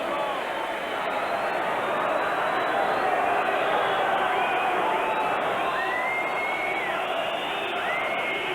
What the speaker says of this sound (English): Crowd whistling for it to end as if there was only 1 goal in it.